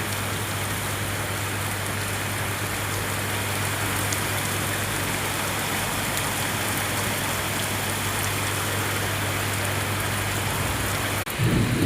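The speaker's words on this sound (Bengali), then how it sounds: "সব কতটা জোরে বৃষ্টি পড়ছে আমাদের এখানে।" Heavy rain pours steadily onto a flooded road in a continuous dense wash, with a faint low hum underneath that drops out near the end and no talking.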